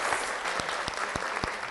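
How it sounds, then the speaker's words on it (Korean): A church congregation applauds in thanks after a testimony, steady close clapping from many hands with a few sharper individual claps standing out. "역사하신 하나님께 감사의 박수"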